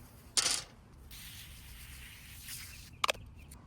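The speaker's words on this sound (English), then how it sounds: "I will flip and spray other side too." Two short hissing sprays of aerosol wheel cleaner onto a car wheel, a longer burst near the start and a quick double puff near the end, with faint hiss in between.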